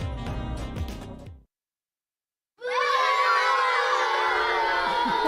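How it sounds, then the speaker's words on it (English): Children booing and shouting in a sound effect, a loud, dense crowd roar that bursts in after a sudden silence and carries on steadily, following a brief stretch of music at the start. "It looked like children booing something."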